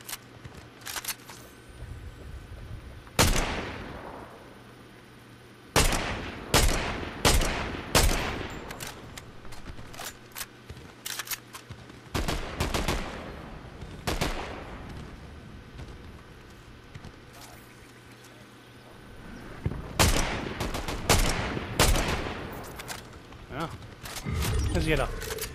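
Gunfire from a DMR rifle in Fortnite: sharp, loud shots ring out in irregular bursts and single cracks across the stretch, mixed with other game effects while people talk over the action.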